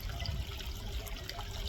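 Water from a garden pond waterfall trickles and splashes continuously, a soft, steady bubbling wash with a few brighter drips on top and no voices.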